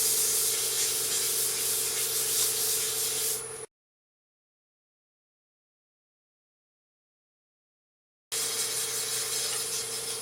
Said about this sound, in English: So now we're going to slow the lathe down. And we're going to go ahead and sand it.